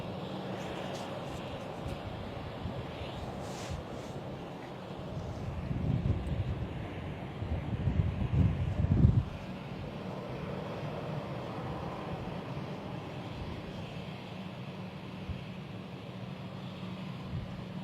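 A Cessna 680A Citation jet departs London City Airport as a distant roar. It swells to a rumbling peak midway, then fades back into wind-buffeted background noise.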